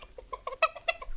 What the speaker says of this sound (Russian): и закудахтала на весь двор